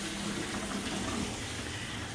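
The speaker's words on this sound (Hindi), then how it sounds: "अभी तो पानी भर रहा है" Tap water runs steadily into a hotel bathtub being filled for a bubble bath, a continuous close gushing splash with no one speaking.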